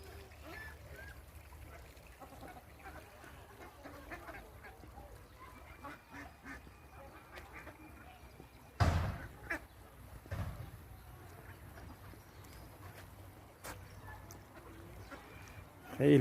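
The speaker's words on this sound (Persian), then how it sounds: "خیلی قشنگی مرغابی ها." Ducks quack softly in a bird garden in Qarshahir, faint and fairly distant over steady outdoor ambience, with a few louder bumps and scattered calls and a person talking now and then.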